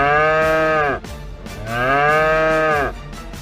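A cow moos twice, loud and close, each call a long, drawn-out low bellow with a brief pause between them.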